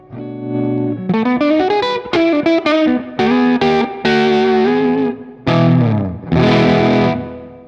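An ES-335-style semi-hollow electric guitar played loud and close with added gain and effects, distorted chords and single notes ringing in short bursts with brief pauses, no talking over it.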